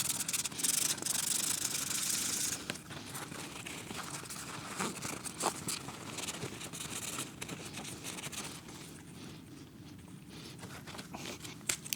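Micromesh pads rub over a vintage tobacco pipe in quick, close, papery strokes, louder and harsher at first, then softer and steadier as the sanding goes on.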